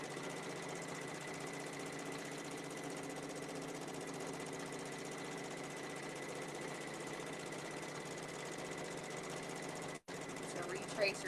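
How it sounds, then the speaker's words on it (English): A domestic sewing machine runs fast and continuously during free-motion quilting, a steady mechanical whir with a constant hum, holding close and even for the whole stretch apart from a brief dropout near the end. "You kind of have to go slow, even though the machine's going really fast."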